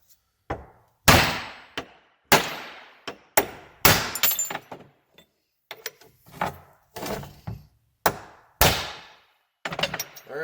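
Sharp metallic hammer blows, about a dozen in an uneven rhythm, drive a U-joint cap out through a big socket, each strike ringing close and loud with brief gaps of silence between.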